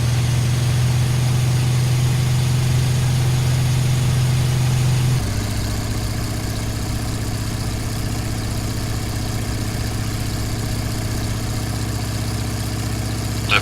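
Douglas TBD Devastator radial engine running up for a takeoff roll in a flight simulator, a steady loud droning rumble that shifts to a lower, rougher tone partway through and holds constant.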